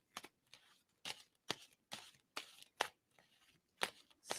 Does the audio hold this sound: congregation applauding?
no